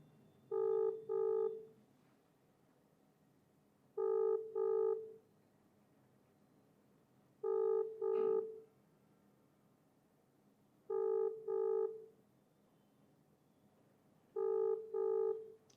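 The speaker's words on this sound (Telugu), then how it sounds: "వెంకటరమణారెడ్డి గారు ఫోన్ ఎత్తలేదు." An unanswered outgoing phone call rings back five times in paired electronic tones. Each pair is evenly spaced about three and a half seconds apart over a quiet line.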